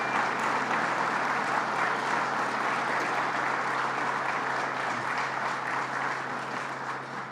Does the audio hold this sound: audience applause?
yes